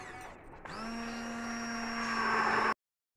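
An electric mixer whips three natural sunscreen ingredients in a bowl, starting with a sudden whir that holds a steady, rising motor whine for a couple of seconds before cutting off abruptly.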